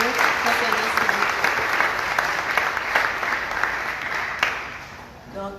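A youth gathering audience applauds a reverend after his talk at a church debate event, sustained and fairly loud clapping from many hands that carries on evenly throughout.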